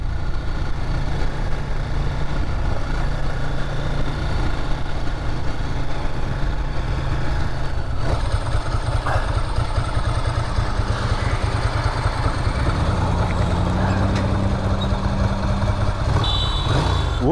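An air-cooled, two-valve Ducati 900 SuperSport V-twin runs continuously in second gear, a loud, rough, throbbing engine note heard up close from the bike with no break.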